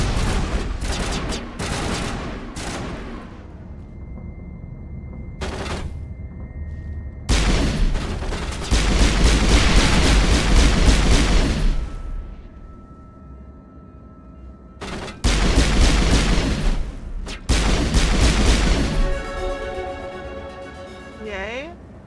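Combat in the Mass Effect video game crashes in heavy bursts of gunfire and booming blasts, loud stretches alternating with quieter gaps where a player talks over the game sounds.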